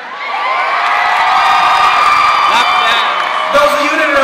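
A concert crowd at a show in LA cheers, whoops and shouts loudly and continuously, with a voice calling out above the roar.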